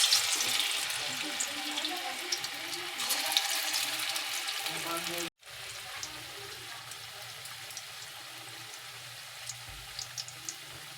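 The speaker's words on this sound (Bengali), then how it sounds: "এবার এগুলোকে তেলে দিয়ে ভাজতে হবে" Balls of mashed bottle gourd fry in oil, giving a dense, crackling sizzle with fine pops throughout. The sound cuts out for a moment midway, then resumes just as busy.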